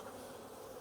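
Honey bees droning in a dense, steady buzz over an open hive frame with drone brood, close and continuous throughout.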